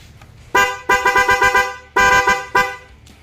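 A motorcycle horn honks in a series of short, loud blasts with brief gaps, then one longer blast and a final short toot, close by.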